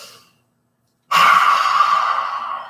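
A deep, drawn-out breath taken during a relaxing breathing exercise, starting abruptly after a short silence and holding steady and close for over a second and a half.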